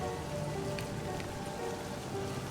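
Steady rain falling in the video game Livber: Smoke and Mirrors, a continuous even hiss of drops on a surface with a few brief brighter spatters, no voices.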